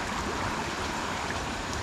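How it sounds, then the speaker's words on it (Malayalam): Fast-flowing river water rushes and gurgles in a broad, continuous wash, close by and fairly loud, with no voices over it. "ശരിക്കും ഇത് കുത്തി ഒഴിക്കുന്ന ഒരു പുഴയാണ്"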